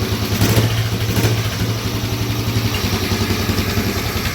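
A Norton ES2 motorcycle engine runs at a steady idle on its first start of the season, a loud close single-cylinder thump with a brief rev near the start.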